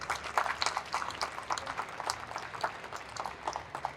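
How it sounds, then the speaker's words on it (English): Soft, distant applause from an audience at the 2022 Women In Screen Printing and Wide Format Awards ceremony, a quiet, even patter of many hands clapping throughout. "round of applause to Abby"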